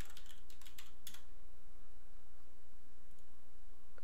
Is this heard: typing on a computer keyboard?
yes